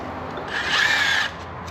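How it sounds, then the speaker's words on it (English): An impact driver fitted with a Snap-On 1/4-inch long-reach 8 mm socket whirs loudly for about a second, backing out bolts on a Kodiak 700 ATV, with quieter shop ambience before and after and no talking. "so I can use it with my impact driver"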